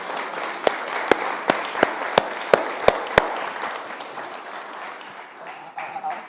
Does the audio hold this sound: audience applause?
yes